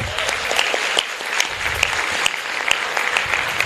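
An audience applauds the Bolivian ambassador to Mexico, José Crespo, at a conference hall event: dense, steady clapping from many hands, fairly close and even in loudness throughout, with no voices over it.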